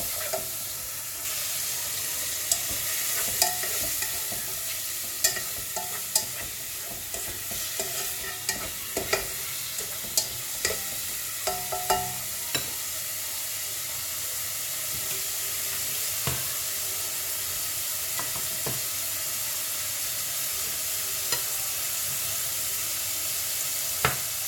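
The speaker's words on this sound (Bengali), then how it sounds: "কুচি দিয়ে দিলাম, তারপর আমরা লবণ, কাঁচামরিচ, দেন ভাজা হয়ে গেলে কর্ন দিয়ে দেবো।" Shrimp bits, salt and green chilies frying and sizzling in a pan for homemade corn soup, with steady sizzle and repeated stirring scrapes and clinks throughout, no talking.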